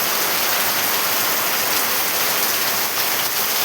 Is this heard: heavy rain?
yes